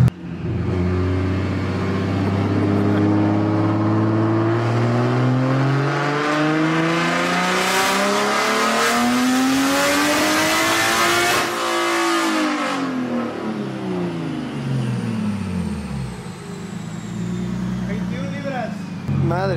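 A BMW car engine revs hard on a dyno, rising steadily in pitch to a loud peak, cutting off abruptly, then winding down with falling tones and a high whine fading out.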